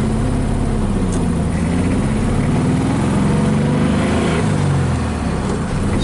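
A 1961 VW Beetle engine pulls steadily in first gear, a loud, close air-cooled rumble with a low buzzing drone that rises slightly in pitch and stays constant throughout.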